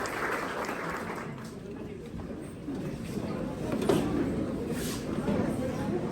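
Audience applause filling a hall at a conference lecture by a magistrate, a steady, dense wash of clapping that holds at an even level for several seconds with no voices on top.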